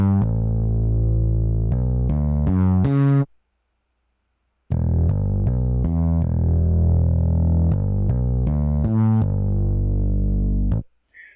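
Bass line run through an IK Multimedia Tape Machine plug-in in FL Studio, its tape distortion saturating the tone; loud sustained harmonic-rich notes play for about three seconds, stop for a brief silence, then return for another six seconds.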